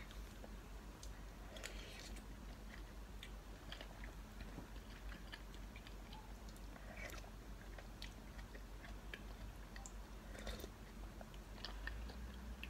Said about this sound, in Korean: 이제 열심히 먹어보도록 하겠습니다